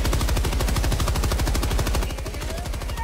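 Sustained rapid machine gun fire in a co-op action video game, a steady dense rattle of shots for about three seconds, loud and close with no talking over it.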